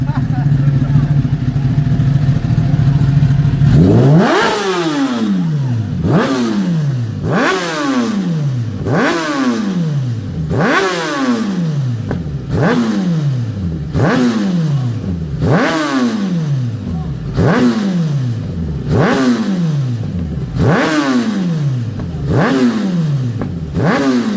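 Superbike engines at a charity ride rev hard in a long run of rhythmic, repeated throttle blips, loud and close, each rising whine cutting off and restarting, with crowd voices underneath.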